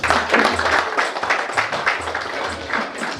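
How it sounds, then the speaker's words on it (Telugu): Audience applause at a real estate developer's lucky draw event, dense steady clapping from a crowd lasting throughout with no break. "ఒక్కసారి బిగ్ క్లాప్స్ ప్లీజ్"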